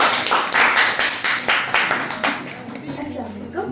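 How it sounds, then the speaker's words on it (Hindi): A studio audience claps in rhythmic bursts to welcome a guest onto a Ramadan special show, loud and close, with the clapping thinning out near the end. "भरपूर तालियों से उनको बुलाया जाए"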